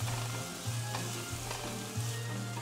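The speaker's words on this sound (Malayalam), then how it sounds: "ഇനി സവാള ഒരു മൂന്ന് മിനിറ്റ് വഴറ്റിയെടുക്കുക" Sliced onions sautéing in hot oil for a fish curry, a constant close sizzle and crackle with a few stirring scrapes, no voices.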